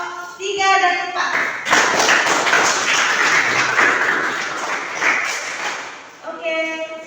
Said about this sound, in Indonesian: Tepuk tangan untuk kelompok 3 dan 4.